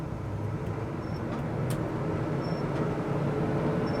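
A 1980 Chevrolet K10 truck cruises on the road at around 50 mph, with a steady broadband engine and road roar heard from inside the cab throughout.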